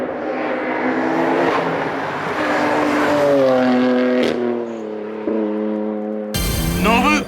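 A 600 hp front-engine, rear-drive BMW M4 weighing 1576 kg accelerates hard up a mountain pass, its engine note climbing loudly through rising harmonics with brief dips at gear changes, close and continuous.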